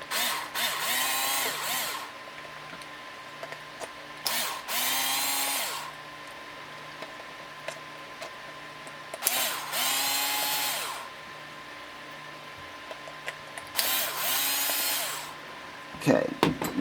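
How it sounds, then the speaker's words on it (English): A screw gun backs screws out of a PS4 controller in four separate whirring bursts, each lasting a second or two, with quiet pauses between them and a clatter at the end. "I'm just gonna use a screw gun real quick."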